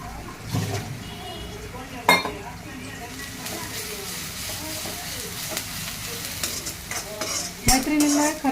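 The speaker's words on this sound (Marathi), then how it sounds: "हे कोथिंबीर लसूण आणि हिरवी मिरचीची पेस्ट पण याच्यातच ॲड करायची लगेच म्हणजे कांद्यासोबत ते पण छान परतवलं जाईल" Onion with a coriander, garlic and green chili paste sautéing in a pan, a steady sizzle broken by several sharp clinks and scrapes of a spoon stirring against the pan.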